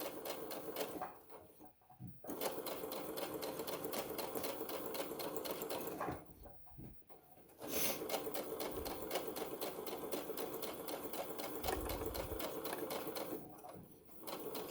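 A sewing machine stitches a tote bag in long, steady runs of fast needle clatter, pausing briefly twice before starting up again, heard close and fairly quiet.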